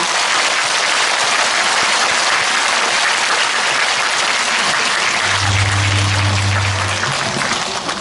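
A hall audience at a Lotus World tenth-anniversary talk concert gives the Suwon mayor a loud, sustained round of applause, dense clapping without a break, with a low steady hum rising beneath it near the end.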